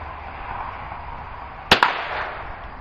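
Two sharp rifle shots fired with open sights at an outdoor shooting range, a quick close pair of cracks over steady wind-like background noise, with no talk.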